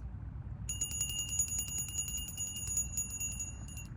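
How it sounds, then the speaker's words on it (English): Small bell rung once with a bright, sustained metallic ring that starts shortly in and shimmers on steadily, with faint rhythmic pulsing as it decays over a low background hum; fairly quiet overall. "To start, I'm gonna ring this bell."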